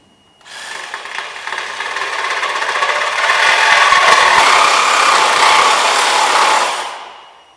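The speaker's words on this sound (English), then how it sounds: "We're going to use our Ryobi saw" Ryobi saw cutting through metal on a Cub Cadet 1650 tractor build, a harsh continuous rasping cut that builds in loudness, holds for several seconds and then trails off, close and without speech.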